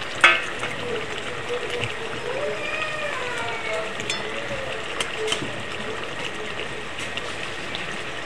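Fish curry gravy with mustard and poppy seed paste bubbling in a pot, a steady soft simmering hiss and burble close by, with fried eggplant pieces dropped in near the start.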